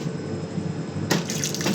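Water runs steadily from a tap aboard a train, a continuous close hiss and splash that grows a little brighter and louder partway through.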